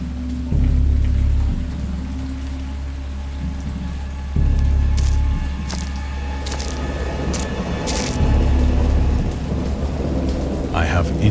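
Rainstorm with thunder in the Dagon video game based on H. P. Lovecraft: continuous heavy rain hiss with deep rumbling thunder swells and a few sharp cracks, loud and alone.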